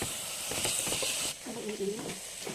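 Tomatoes cooking in a pan for Kerala tomato rice are stirred, giving a soft continuous sizzle with gentle scraping strokes, close and steady, briefly quieter partway through.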